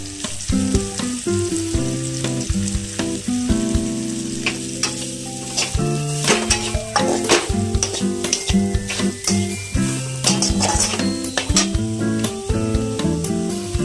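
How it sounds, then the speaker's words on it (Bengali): Chopped carrot and capsicum for a momo filling fry in a pan with a loud, continuous sizzle and frequent scraping stirs, while steady tonal background music plays underneath throughout. "তার সঙ্গে অ্যাড করে নিচ্ছি একটু গাজর কুচি"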